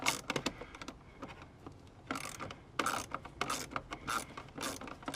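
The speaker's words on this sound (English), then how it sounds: "Make sure to tighten these down so that the harness is secure." Locking nuts and bolts with flat washers are tightened to secure a wiring harness on a Jeep JK Wrangler, heard as repeated close ratcheting clicks in short bursts with brief pauses, metallic and mechanical, without speech.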